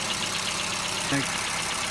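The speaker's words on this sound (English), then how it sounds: "now that we see that the vehicle is running smooth" A car engine idles steadily after an ignition coil replacement cured a misfire, a continuous even hum running the length of the clip with a brief voice rising over it near the middle.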